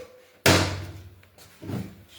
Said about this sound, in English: tap the spindle straight